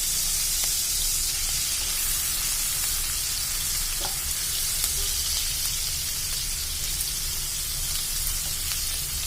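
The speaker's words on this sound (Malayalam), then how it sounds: "അപ്പോൾ നമ്മുടെ ചെമ്മീൻ നമുക്കൊന്ന് ഇളക്കി കൊടുക്കാം" Prawns for chemmeen achar fry over a medium flame in a pan with a constant, dense sizzle. An occasional scrape of stirring cuts through, and no voices are heard.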